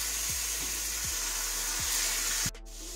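Food cooks in a pan on a home hob with a steady soft sizzle, several faint low ticks, and then a sudden brief burst of noise before the sizzle continues more quietly.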